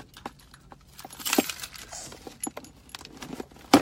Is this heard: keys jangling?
yes